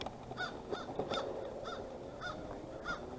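A crow caws repeatedly outdoors, about six harsh calls spaced roughly half a second apart, moderately loud over faint background noise.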